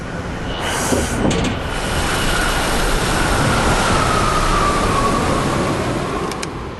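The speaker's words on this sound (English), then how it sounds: "It's hard to stop a train." A train rolls past on a test range with a loud, sustained rumble and hiss, steady throughout, with faint higher squeals near the start and end.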